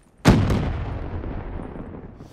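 A grenade detonates in Call of Duty: Black Ops III with a sharp, loud blast, followed by a second crack and a long rumbling decay that fades over two seconds.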